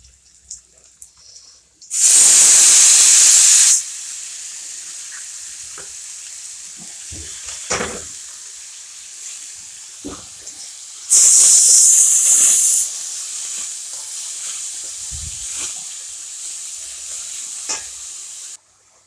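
Grated radish dropped into a hot kadhai, bursting into two loud, steady sizzling hisses of oil a few seconds each, with softer frying crackle and stirring scrapes between them, close up and without speech.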